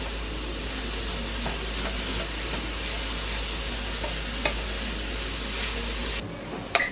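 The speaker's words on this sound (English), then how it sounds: "we're just going to stir that all up and let that cook for just a few minutes" Spices stir and cook in a hot pan with a loud, steady sizzle and occasional scraping strokes, before the sound cuts off abruptly near the end.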